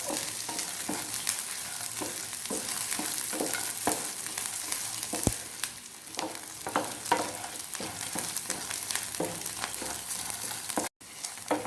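Ingredients fry in a pan for masala dosa filling, a close, steady sizzle broken by repeated scraping stirs of a spatula, continuous throughout with one brief dropout near the end.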